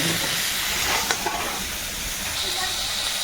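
Pointed gourd (potol) frying in oil with salt and turmeric, a steady close sizzle and hiss that carries on throughout with a few small pops.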